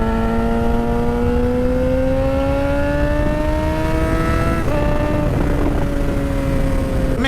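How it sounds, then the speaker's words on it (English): A motorcycle engine runs loud and close while riding, its pitch climbing steadily through one gear, then dropping at a shift and pulling again, with rushing wind noise underneath. "Man, this bike sounds so good."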